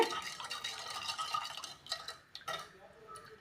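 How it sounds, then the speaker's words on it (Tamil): Spoon stirring sugar and water in a pot as it dissolves into syrup for laddu, giving a steady close scraping and swishing with a few brief clinks, fairly soft and without talk. "சீனி நல்லா கரைஞ்சி ஒரு கம்பிப்பதம் வரணும் அது வரைக்கும் நல்லா கரைச்சி எடுத்துக்கோங்க"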